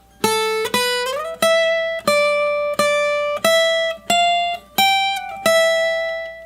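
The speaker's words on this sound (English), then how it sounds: "So this melody line is coming from the A natural minor scale." A single-note electric guitar melody in the A natural minor scale plays about nine clear plucked notes in a steady rhythm, including a slide up, each ringing cleanly and prominently with nothing else heard.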